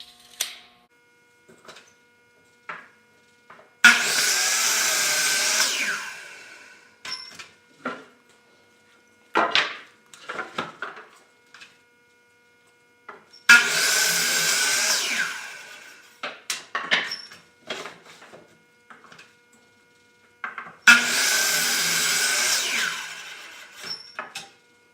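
A power saw rough-cuts wood pieces for tile table supports, heard as three separate loud bursts of cutting, each lasting a few seconds, with quieter knocks and handling sounds between them.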